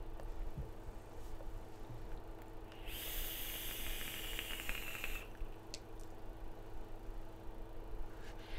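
A vape RTA atomizer gives off a steady airy hiss for about two seconds as it produces vapor, close and fairly quiet over a low background hum.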